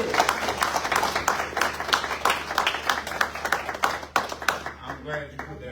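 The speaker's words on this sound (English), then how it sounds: "Can we give Mr. Habersham another round of applause?" Applause from the audience at a graduation ceremony, a dense clatter of clapping that fades near the end while a voice talks over it.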